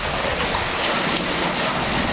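Pea-sized hail driven by strong wind pelts roofs and surfaces in a dense, constant hiss and patter, loud and unbroken, with no voices.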